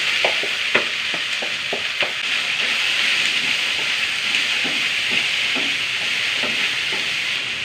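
Ivy gourd frying in hot coconut oil with mustard seeds and urad dal, a steady loud sizzle with occasional stirring scrapes and small pops, up close with no voices.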